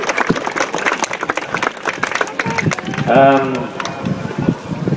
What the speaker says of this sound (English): Let's have a round of applause for the rescuers